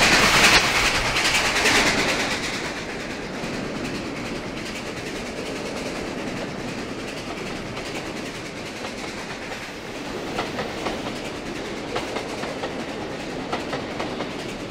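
Nickel Plate Road 765 steam locomotive and train roll slowly past a trackside defect detector, a steady rumble of rail cars with clickety-clack wheel sounds that grows into sharper rhythmic clicks toward the end, with no talk.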